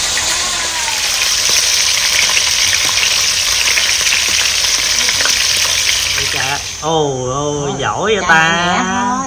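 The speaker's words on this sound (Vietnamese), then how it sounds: "Giờ mình chiên cá." Fish sizzles and spatters steadily in a frying pan in a home kitchen, a loud continuous crackle, and a voice comes in near the end.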